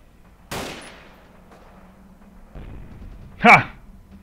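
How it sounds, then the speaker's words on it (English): In the Forgotten Hope 2 battle, a mortar fires and explodes: one dull boom near the start, then a sharper, louder blast about three seconds later, with quiet background between and a voice present. "The mortar got it, nice."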